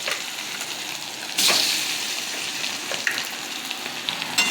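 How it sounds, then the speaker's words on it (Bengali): Boiled potatoes frying lightly in hot oil with five-spice tempering, a soft continuous sizzle with occasional crackles and a brief louder burst of spitting, no talking. "আলুটাকে একটু ভেজে তুলে নেব হালকা করে"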